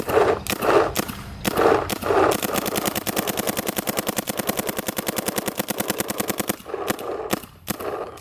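A Planet Eclipse LV1.6 or Shocker AMP paintball marker fires outdoors: a few separate pops, then a rapid, even burst of dozens of shots lasting several seconds, followed by a few more single pops, loud and close with no talking.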